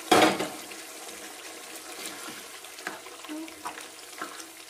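Cooked mutton dropped into a hot pan of masala and stirred, a loud splashing sizzle at first, then steady frying with scraping spoon strokes, close up and without talk.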